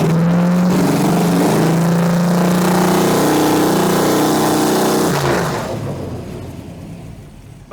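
An old car engine revs steadily at around 3,000 RPM, loud and close with a strained, harmonic drone, then the revs fall away and the sound fades toward idle near the end.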